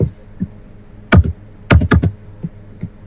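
Scattered keystrokes on a computer keyboard while terminal commands are entered, several isolated taps and a quick cluster of three or four, close and crisp in an otherwise quiet room.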